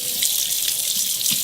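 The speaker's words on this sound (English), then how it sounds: "we're gonna turn this water up all the way to hot" Hot water running hard from a kitchen tap onto spinach, a steady, loud hiss of flowing water that stays constant throughout, close up, with no talking.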